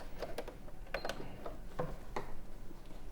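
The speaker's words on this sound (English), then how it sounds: "I think there's an issue with the sewing machine." A sewing machine that keeps knotting thread underneath rattles and clatters in short mechanical bursts, a few quick clicks and thumps at an uneven rhythm, fairly close with room noise behind.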